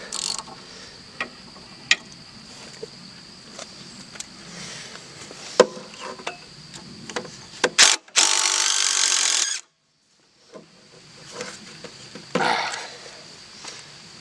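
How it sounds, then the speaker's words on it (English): A hand ratchet with a 1/4-inch socket turns out a bolt on a Bobcat 873 skid steer during pulley work. Sharp clicks come at an irregular pace, with a loud harsh rushing burst partway through and a brief quiet gap after it. "So it works with the ratchet, and now"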